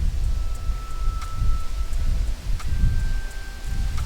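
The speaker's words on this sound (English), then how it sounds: "it's so windy" Steady, blustery wind roars continuously at close range, with low rumbling gusts buffeting throughout and no talking.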